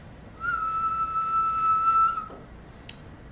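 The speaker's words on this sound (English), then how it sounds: "I still get this whistle at about 1300 hertz" A steady, pure whistle tone near 1300 hertz from a music signal processing lecture demonstration holds for about two seconds and then cuts off, followed by a faint click, in a quiet room.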